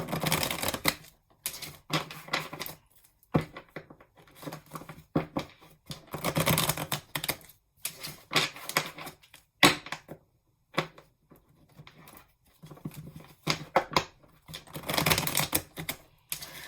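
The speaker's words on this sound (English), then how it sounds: "Sorry if sometimes I shuffle more than other times." Tarot cards are shuffled in quick, papery bursts of riffling and flicking, separated by short pauses, close up with no talking.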